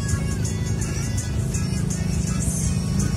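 Heavy morning road traffic surrounds a nearby car, with steady engine rumble and passing vehicles blending into a continuous close, dense drone.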